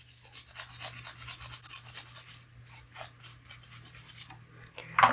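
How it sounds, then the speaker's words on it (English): A hand file rasps a rough edge off a small diecast model car casting in quick, light strokes. The scraping comes close and fairly quiet, with brief pauses, and no one talks. "So I'm going to file that off."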